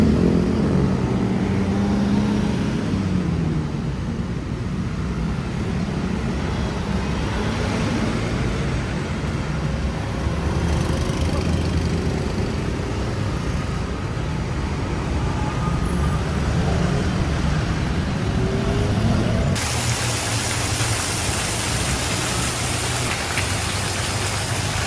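Heavy evening traffic in Bangkok, a long jam of cars and buses stretching far ahead, gives a steady, dense road rumble with a constant hiss that may be rain, continuous throughout and without talk.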